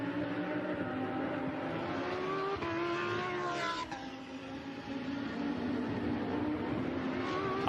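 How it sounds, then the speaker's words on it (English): Lamborghini Super Trofeo race cars sweep through Piratello at the Imola circuit during a 2017 World Final race, a loud, continuous engine roar with shifting pitch as the cars pass, with no voices. "Now very much part of the Lamborghini family and going strongly as the cars swoop through Piratello once more."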